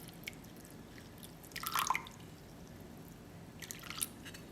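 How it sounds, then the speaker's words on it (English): About 152 grams of water goes into a bowl of vegan protein oatmeal, making a quiet, short splashing pour with a few faint drips and a second small pour near the end, with no talking. "So let's go ahead and add in our water."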